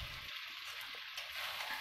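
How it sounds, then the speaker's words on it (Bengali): Chicken sautéing in a pan for a Bengali-style curry gives off a soft, steady sizzle, faint and continuous with a brief low thump at the start. "আবারও আমরা 10 থেকে 12 মিনিট মতো কষবো"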